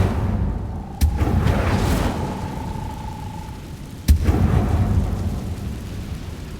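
An Incendio fire spell cast in Hogwarts Legacy produces a rumbling whoosh with a sharp crack at the start, a sustained ringing tone, then a second sharp burst and a lingering roar.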